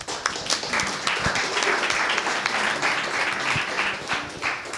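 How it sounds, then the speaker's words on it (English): An audience at a drinks-industry business talk applauds, a dense, steady round of clapping that stays loud for the whole stretch with no speech over it. "Big round of applause for that."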